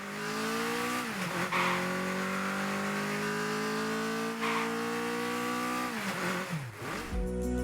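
The default Octane car engine in Rocket League Sideswipe revs steadily, its pitch rising and falling through two dips before a brief final surge, with no talking.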